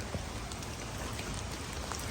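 Steady rain falls outdoors, a soft, even patter of drops on surfaces, faint and continuous with no voices.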